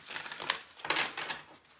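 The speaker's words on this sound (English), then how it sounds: "I'm going to shuffle." Tarot cards being shuffled by hand during a reading, a quick series of soft papery riffles and crinkly flicks, close and faint, with short bursts over about two seconds.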